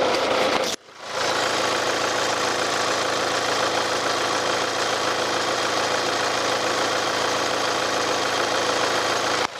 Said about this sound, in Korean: 엔진 소음도 한번 들어보시도록 하겠습니다